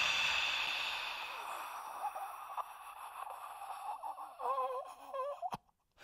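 A forced, whispered exhalation pushed out through an open throat during a standing breathing exercise: one long, breathy rush of air that thins out and ends in a strained, wheezy rasp, close and alone.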